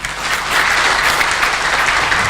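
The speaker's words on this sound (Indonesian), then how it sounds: "Terima kasih, tepuk tangan." An audience at a distributor training event bursts into loud, close applause, a thick, continuous clatter of many hands that swells slightly and holds steady without anyone speaking.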